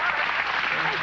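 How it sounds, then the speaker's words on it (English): Audience applause at a WPBA women's billiards final in Tunica, Mississippi, a brief, dense, steady patter of clapping throughout. "I would like to join you in a great round of applause for Jeanette Lee"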